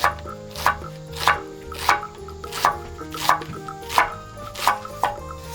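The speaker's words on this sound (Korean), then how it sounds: "양파는 얇게 잘라주세요" Knife chopping onion into thin slices on a cutting board, eight or nine sharp, evenly spaced chops close by with no talking.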